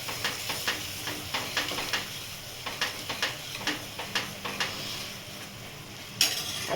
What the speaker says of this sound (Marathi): हे चांगलं परतवते